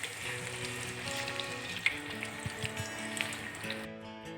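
Battered cauliflower, potato, eggplant and pumpkin frying in hot oil, giving a steady, quiet sizzle with soft crackles under faint background music.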